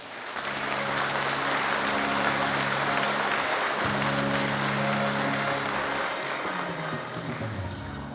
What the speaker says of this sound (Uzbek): O'zingizga o'zingiz chiroyli bitta qarsak chaling